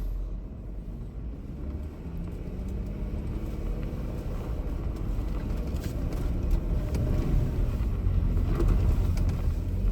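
Jeep on KL3 tires digging and climbing off-road, a continuous low engine rumble and churning drone that builds gradually louder, with no voices.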